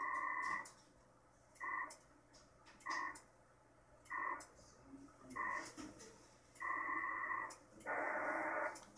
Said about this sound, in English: this is the PACTOR 4 modem. We're using it, PACTOR 3, and it's showing us status as the traffic's going back and forth